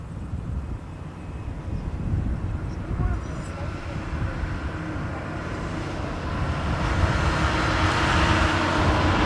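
A Royal New Zealand Air Force plane comes in to land during live plane spotting, a broad roaring rumble with wind buffeting that grows steadily louder and brighter as it nears.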